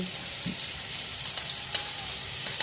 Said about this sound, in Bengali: দিয়ে এটাকে ভালো করে একটুখানি নাড়িয়ে নেবো, কষে নেবো